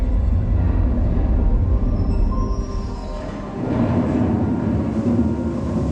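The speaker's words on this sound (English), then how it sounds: "And here comes the ore train." A steady mechanical rumble of a small ore train rolling along in a mine museum exhibit, dipping briefly midway and then swelling again, continuous and fairly loud.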